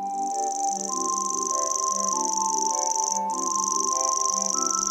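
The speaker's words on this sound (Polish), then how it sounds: "świerszczak," A common grasshopper warbler delivers its reeling song, a high, continuous mechanical whir like a spinning fishing reel that runs on for seconds with one tiny gap, over quiet background music.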